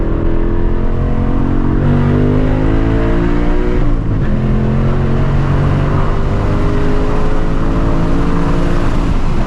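A 2024 Ford Mustang GT with a 6-speed manual pulling hard from a 60 mph roll, the V8 roaring loud and steady with rising pitch, a brief shift dip midway, then continuing to climb.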